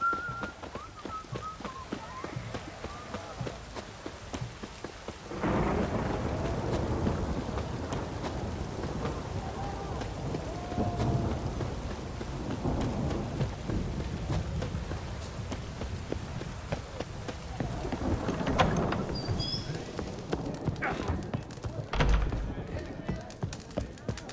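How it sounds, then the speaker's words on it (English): Steady rain falls outdoors as a dense, continuous hiss and patter, close and fairly loud, with a person talking over it at times and occasional rumbling underneath. "It's raining."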